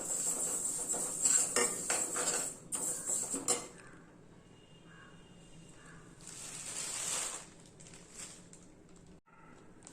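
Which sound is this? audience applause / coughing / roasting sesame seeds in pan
roasting sesame seeds in pan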